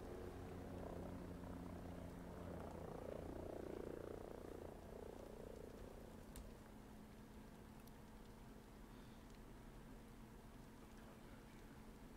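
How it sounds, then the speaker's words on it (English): A helicopter in the Ghost Recon Breakpoint video game flies off, its faint rotor and engine rumble swelling briefly and then thinning out as it moves away, with no talk over it. "helicopter flew out fast"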